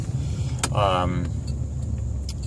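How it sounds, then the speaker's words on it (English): A 1990 Cadillac Coupe DeVille engine idles with a low, uneven rough rumble throughout, while a person talks briefly over it. "the car does have a little bit of a rough idle"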